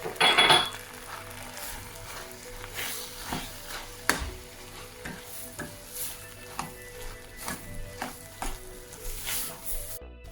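Mashed chana dal being stirred together with grated coconut and cardamom in a metal pan, with soft scraping and clinking of a spoon against the vessel, close and fairly quiet, no talk.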